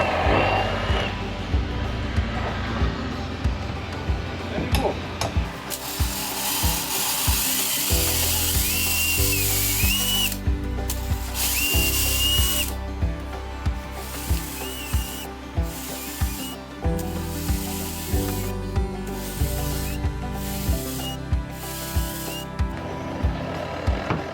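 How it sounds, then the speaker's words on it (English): A drill grinds into a wooden plank of a wooden sailboat, cutting an underwater thru-hull, in repeated bursts, its motor whining and rising with each pass, separated by short pauses and faint rubbing noises. "I'm going to continue drilling and hopefully finish that today"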